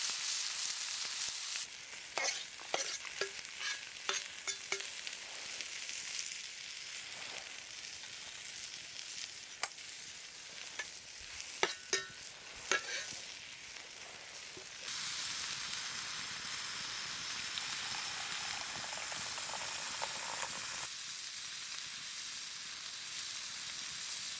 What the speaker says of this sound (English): make like a breakfast fried rice